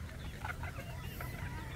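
Chickens clucking in a roomy pen, soft repeated clucks close by over a low steady background hum.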